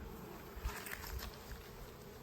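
Honey bees buzz during a beehive inspection before winter, a faint, steady hum with a few brief closer buzzes passing by.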